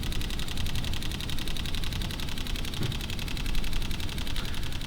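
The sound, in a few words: Sony a6500 camera shutter burst shooting at 11 frames per second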